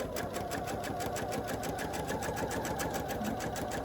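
A sewing machine runs steadily, stitching batik fabric pieces for a snowflake quilt, its rapid even needle rhythm continuous and close with no pauses or talk.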